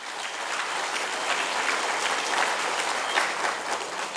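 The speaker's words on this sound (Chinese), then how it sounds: "请大家给自己掌声鼓励一下" Sustained, dense applause from a large crowd at a Chiayi County magistrate's year-end speech event, even and continuous for the whole stretch with no talk over it.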